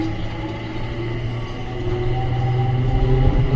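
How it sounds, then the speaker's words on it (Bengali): Driverless Dubai metro train running, heard from inside the front compartment as a steady low hum and rumble that slowly grows louder. "দেখুন ট্রেনে যাচ্ছে"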